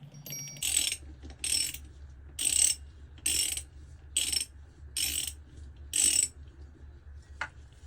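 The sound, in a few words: ratchet tightening transmission bolts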